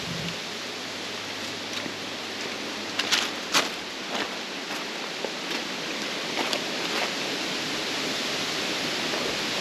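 Middle Fork creek flows along the Ozark Trail in Missouri, a constant broadband rush of clear water heard up close with a steady, unbroken wash and no voices.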